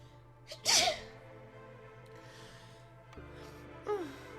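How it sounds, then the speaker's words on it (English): A single sharp sneeze bursts out near the microphone, preceded by a quick inhale, followed by quiet breathing and a brief vocal sound. "I'm gonna sneeze."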